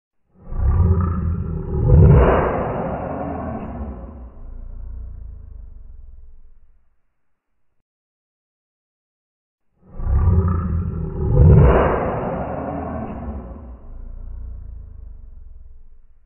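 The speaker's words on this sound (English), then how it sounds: "T for tiger." A tiger roars twice, each a loud, deep, drawn-out growl that swells and fades over several seconds, with a pause of silence between the two roars.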